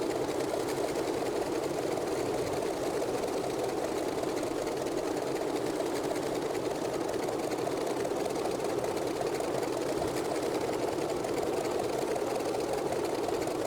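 A Grumman F3F radial engine idles while taxiing between parked aircraft in Microsoft Flight Simulator, a steady, even mechanical drone with a rapid knocking pulse, continuous and alone throughout.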